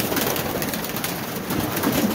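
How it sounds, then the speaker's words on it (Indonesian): Many pigeons coo and flutter together in a crowded loft in Gaza, a dense, steady murmur of calls close by with no talking over it. "Merpatinya banyak sekali teman-teman. Di kandang milik teman saya"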